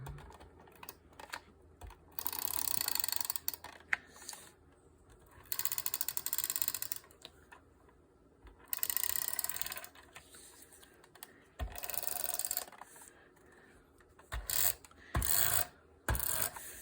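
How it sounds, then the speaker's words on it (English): A tape runner pulled across a fabric journal cover to lay adhesive, repeated close ratcheting zips in several bursts of one to two seconds, separated by soft handling noise. "And to do that, I'm going to use some tape runner."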